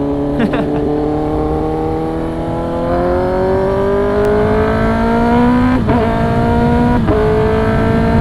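Kawasaki ZX10R sport bike on launch control holds a steady high rev, its engine tone climbing gradually with a few sharp limiter-like stutters, loud and close throughout.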